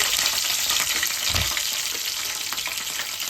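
Cut green chillies hit three spoons of hot oil in a kadai and fry with a loud, continuous close sizzle, a brief low knock partway through.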